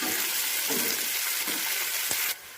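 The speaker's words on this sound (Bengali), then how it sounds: "পেঁয়াজটা আমার মোটামুটি ভাজা হয়ে গেছে" Chopped onions, a generous amount, frying in a pan give a loud, continuous close hiss that cuts off abruptly just before the end.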